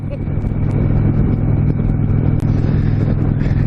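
A 2019 Indian Chieftain Dark Horse motorcycle engine running close by, a loud steady low throb rising slightly as if revved, with a brief dip near the end.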